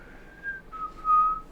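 A person whistles a slow, eerie tune, imitating the creepy old man in a hat from the movie Poltergeist; a few clear sustained notes, close and alone.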